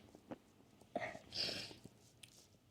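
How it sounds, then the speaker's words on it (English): A single deliberately provoked human sneeze bursts out close and soft, a short hissy blast after a quick intake, with faint mouth and breathing noises around it. "Next sneeze"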